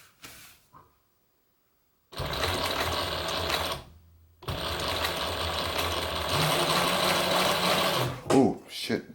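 A Singer 107W1 industrial sewing machine with a servo motor stitches through 16 layers of sail cloth. Two loud, close runs of motor whir and rapid needle chatter are split by a short pause, and brief voice sounds follow at the end.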